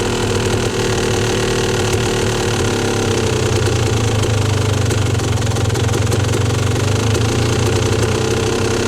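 A Yamaha YZ250 two-stroke dirt bike engine idles loudly and close, a continuous rough, burbling drone that holds steady throughout.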